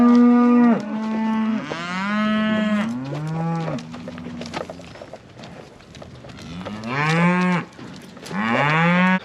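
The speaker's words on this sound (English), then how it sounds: "as I pull cows out of the herd, I'll just put them back here in the tub" Cows in a herd moo repeatedly, several long, loud bellowing calls close by with short pauses between them, some calls rising and falling in pitch.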